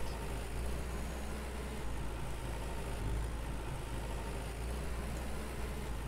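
Tractor engine idling steadily in the farming game Farmer's Dynasty, a low continuous rumble held at an even, moderate level throughout with no talk over it.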